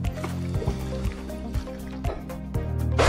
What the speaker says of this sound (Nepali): रारातालको पानी यसरी बाहिर निक्लिएको छ